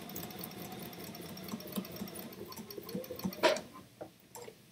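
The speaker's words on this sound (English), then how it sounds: "now I'm going to just sew the rest of the stocking" A Bernina sewing machine sews a stocking with a quiet, steady mechanical hum and faint ticking, followed by a brief clatter and a few soft knocks near the end.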